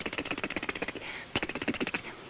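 Harmonica notes repeat in a fast, even pulse from T and K tongue strokes, close and crisp, with a brief breathy pause midway and no talk.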